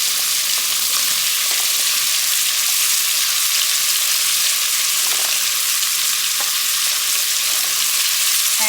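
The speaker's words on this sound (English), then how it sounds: "now that my butter has melted, I'm going to start adding my vegetables. I'm also adding the garlic in at this moment as well" Vegetables and garlic sautéing in melted butter in a pan over medium heat, a steady close hiss of frying with a few faint clicks of stirring, no voices.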